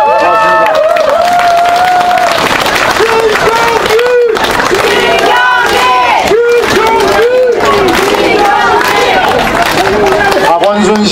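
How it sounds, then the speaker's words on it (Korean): Crowd at a Seoul Yeongdeungpo campaign rally cheering and applauding loudly while an amplified voice shouts over the noise, with rising and falling vocal calls throughout. "박수하세요."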